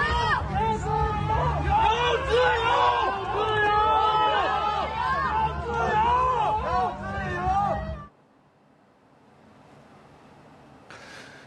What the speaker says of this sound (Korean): 자유를 달라며 함성을 외쳤습니다